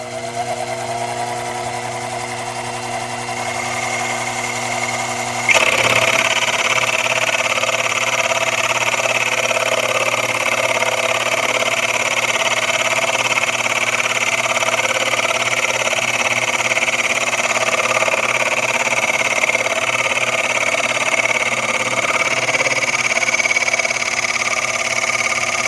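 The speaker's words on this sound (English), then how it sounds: "as I'm drilling through it will not fray out the bottom" A Sherline machine bores through a practice workpiece with a steady mechanical hum that turns louder and grittier after a few seconds as the cut engages, then continues evenly to the end.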